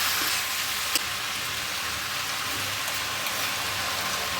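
Snake gourd (chichinga) frying in a pan, a steady, even sizzle of hissing crackle running throughout at moderate level, with one brief sharper tick near the start and no voices.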